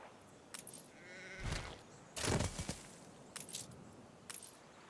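Sheep bleat at a sheep farm in the city-building game Anno 1800, several short bleats spaced across a few seconds among faint jangling interface clicks, with no talking.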